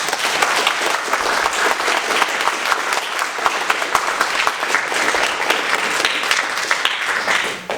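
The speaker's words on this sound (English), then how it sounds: "Can we get a round of applause for our judges?" A full crowd gives a round of applause for the judges at a student video game design event, a dense, steady wash of clapping that stays loud and close and holds for several seconds before trailing off at the end.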